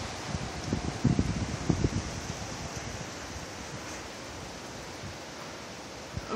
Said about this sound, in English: so you can hear the wind. It's just whipping through these trees.